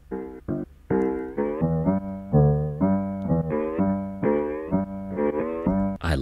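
AI-generated song edited in RipX DAW with the piano raised to full level, playing as a loud, continuous melodic passage of sustained tonal notes with no speech over it.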